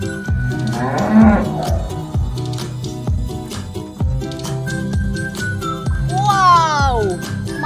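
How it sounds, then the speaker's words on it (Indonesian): A toy Toraja water buffalo gives repeated loud mooing calls over a cheerful jingling backing tune, while a child-like voice talks between the calls. "Ternyata ini adalah hewan kerbau toraja."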